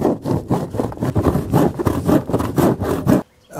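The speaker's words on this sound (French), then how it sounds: "Donc là, je découpe pour avoir la longueur de la dernière rangée." A Flexoutuile roofing tile sheet is cut to length by hand with a saw blade, giving loud, close, rhythmic rasping strokes in a steady back-and-forth pattern that stops abruptly just before the end.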